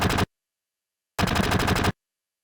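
Two short bursts of rapid gunfire from a Final Fantasy game scene where Zack is shot down, each a tight rattling volley separated by silence, loud and close with nothing else heard.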